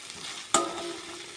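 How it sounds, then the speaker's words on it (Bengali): Ginger, garlic and onion with spices sizzle faintly in a pan, a soft continuous fry broken by one sharp clink of a utensil partway through. "আমার ওই মশলাগুলো ভাজা হয়ে গেছে, আদা রসুন পেঁয়াজটা"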